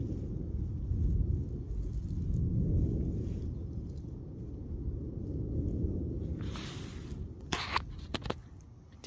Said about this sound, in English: That was a lot of thunder.